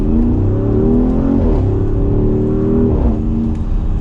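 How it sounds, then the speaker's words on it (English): A 2020 Porsche Cayenne Turbo Coupe V8 engine revs steadily with a deep, rumbling exhaust note, pitch rising and dipping twice over a few seconds, close by and alone. "have an amazing sound like that. It sounds so good for a V8"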